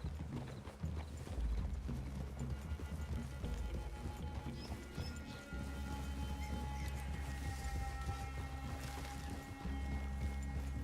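Horses' hooves clip-clop at a walk in Red Dead Redemption 2, a steady, fairly close plodding rhythm over low rumbling ambience, with no one talking.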